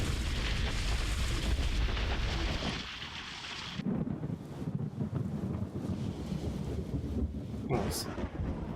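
Thunder rolls in the space survival game Empyrion Galactic Survival as a loud, low rumbling roar for about three seconds, then fades into quieter, windy, gusting noise with faint crackles.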